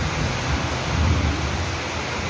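Steady rain falls outside a village house during a downpour, a dense, even hiss with low rumbling underneath, continuous and fairly close with no talking.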